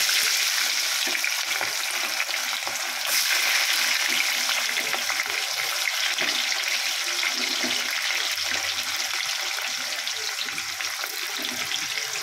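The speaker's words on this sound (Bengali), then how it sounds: "তেলটা গরম হয়ে গেছে, আমি এবার পেঁয়াজটা দিয়ে দিলাম।" Chopped onion frying in hot oil in a kadai, a steady, dense sizzle and crackle that holds close and loud throughout, with no voices over it.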